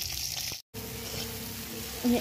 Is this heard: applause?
no